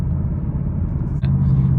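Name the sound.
2022 Ford Mustang GT engine rumble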